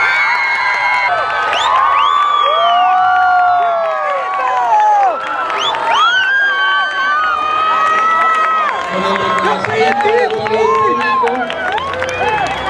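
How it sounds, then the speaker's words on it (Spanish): Classmates applauding and cheering at a school pageant, a dense crowd of clapping with whoops and shouts, loud and sustained, while an announcer's voice speaks over the noise. "Y los aplausos también de sus compañeros."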